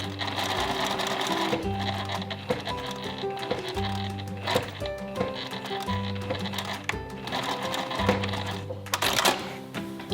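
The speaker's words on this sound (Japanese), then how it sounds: "この字に縫ったちょうどこの端に向かって縫っていきます。" A sewing machine stitches a seam in dressmaking, running in several rhythmic bursts of rapid mechanical chatter separated by short pauses, close and clear with no talking.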